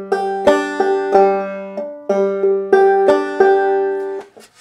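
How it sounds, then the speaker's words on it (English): Clawhammer banjo plays a thumb lead pattern, bright plucked notes ringing over a droning open string in a bouncy, even rhythm, close and clear with no talking. "Last week's pattern was a thumb lead pattern."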